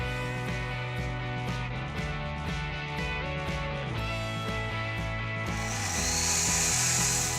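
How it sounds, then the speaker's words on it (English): A power saw cuts wooden roof rafters for a pool house frame, its motor whining steadily with repeated rhythmic cutting strokes, close up, rising to a louder burst near the end. "Then I use the pattern to cut the first set of rafters."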